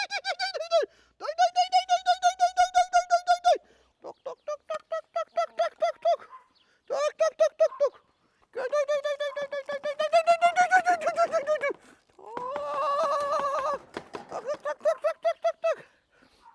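Chickens clucking and squawking in repeated bursts after being called in to be fed, close and loud, with short pauses between the calls.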